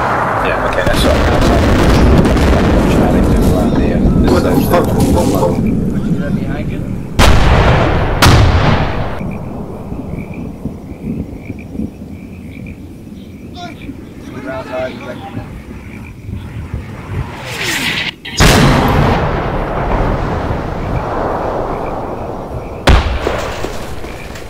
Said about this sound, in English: Got mortars.